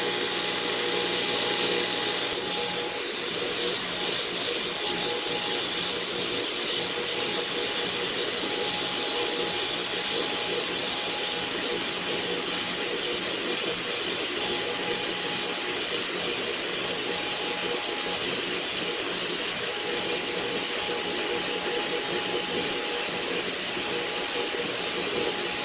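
A surface grinder takes a light finishing pass across a hardened steel riveting hammer, giving a steady high hiss with a faint tonal whine that holds evenly for the whole stretch, close by with no talking.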